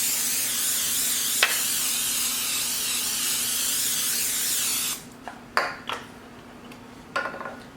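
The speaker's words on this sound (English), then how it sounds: "Now we are just going to spray them with the butter spray." Butter spray from a can misted over 18 rolled-out dinner rolls: a steady loud hiss lasting about five seconds, then a few short spritzes and rustles, close with no talk.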